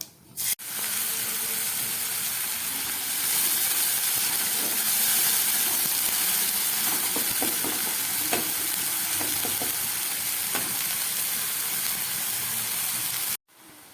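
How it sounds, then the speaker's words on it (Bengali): Spice paste with black cumin and white cumin tempering frying in hot oil for a lote fish curry, a loud steady sizzle with stirring clicks and scrapes running throughout, no talk. "কালো জিরে আর সাদা জিরে ফোড়ন আর দিয়ে দিচ্ছি পেস্ট করা মশলাটা"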